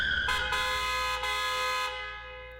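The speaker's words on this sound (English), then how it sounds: "a speeding car honks angrily at me" A speeding car in Peachleaf Valley: Seeds of Love blares a long, loud, sustained horn blast, steady for nearly two seconds before fading out, heard alone and close.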